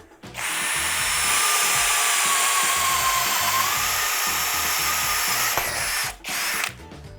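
A DeWalt DCD800 cordless drill runs steadily in speed 1 with a loud, continuous whine that holds for about five seconds, then cuts off, followed by a short second burst.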